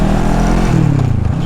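A Bristol Bobber 650cc motorcycle engine rumbles close up with a low, continuous throbbing drone and slight rise in pitch, loud and without speech.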